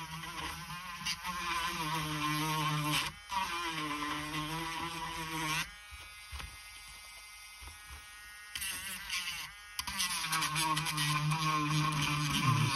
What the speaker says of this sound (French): J'essaie de poncer là où c'est nécessaire, où ça me semble nécessaire.